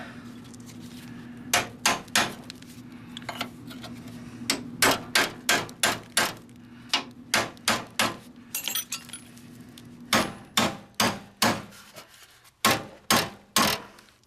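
Sharp, ringing metallic hammer blows drive big, thick, flat chisels into a seat frame, struck in quick clusters of several hits with short pauses between them. The hits are close and clear over a low background hum.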